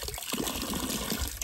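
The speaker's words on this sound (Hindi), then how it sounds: "रुक जा पानी डालने दे" Water splashes and pours steadily onto a freshly caught fish during a waterfall fishing trip, a close, continuous gush lasting about a second and a half with no talk over it.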